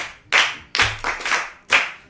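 Applause for a child on a children's programme: about four separate bursts of crisp, close handclaps, each loud at onset and quickly fading, with no talking.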